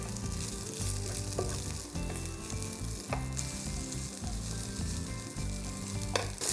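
Onions sizzle steadily in a hot pan, a constant crackling hiss that runs the whole time over a low, steady tonal background.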